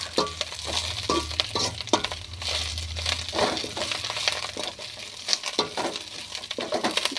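Curry leaves crackle and spit in hot oil while a Tamil thuvaiyal is being made, a dense, close, continuous sizzle with sharp popping bursts throughout and no voices.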